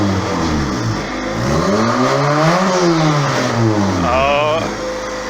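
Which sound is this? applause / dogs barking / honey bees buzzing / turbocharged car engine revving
turbocharged car engine revving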